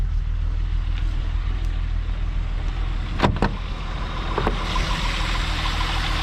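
The 12-valve VR6 engine of a US-spec MK4 VW Jetta wagon runs at a steady, smooth idle, a constant low rumble heard up close with a couple of brief clicks and no talking.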